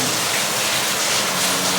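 Steady rain falls on a backyard cooking spot, a dense, even hiss that stays constant and fills the short stretch without pause.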